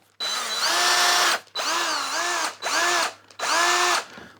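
A Lidl Parkside 20V cordless drill runs in four bursts, whining up to speed and cutting off between each, loud and close with no one talking.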